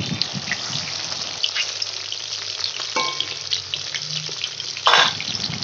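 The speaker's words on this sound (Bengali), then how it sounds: "এইভাবে আমি 6 পিস মাছ ভেজে নিলাম" Steady oil sizzling and crackling from pieces of katla fish frying fills the clip, with a brief clatter of utensils midway and a louder burst of spattering near the end.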